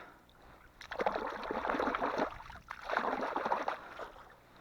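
A small motorboat passes on a river at a fishing spot, its wash and motor rising in two broad swells of rushing noise at moderate distance, with no talking.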